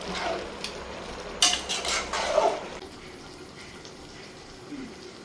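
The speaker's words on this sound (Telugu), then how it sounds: "ఇది మొత్తం కలుపుతున్నారు" Chicken biryani mixture with about 300 grams of oil being stirred in a pot, with a few scraping and clinking utensil strokes standing out over a soft wet background, then fading to quiet.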